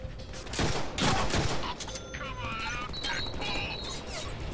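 Gunfire rattles in the Deadpool video game, dense bursts of shots and impacts mixed with game effects and shouting voices throughout.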